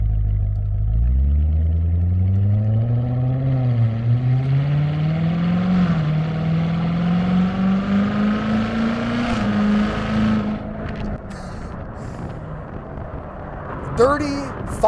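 A C7 Corvette Z06 engine pulls hard up through the revs with a steadily climbing tone, then lifts off, with a few sharp crackling exhaust pops near the end.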